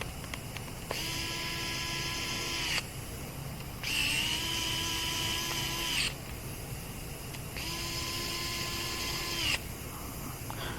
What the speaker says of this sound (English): you can slide your float bowl back on and put your bowl screws back in